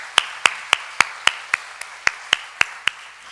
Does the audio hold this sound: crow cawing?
no